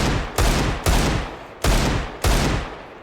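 Five loud gunshots in a zombie Minecraft modpack, Deceasedcraft, fired at a zombie on a military base, each a sharp broadband crack with a short decaying tail, spaced irregularly over about three seconds with no talking.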